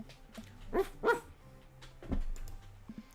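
Maxwell, a dog in the video game Dream Daddy, gives a few short, soft barks and yips, two close together near the start and another a second later, over quiet background sound.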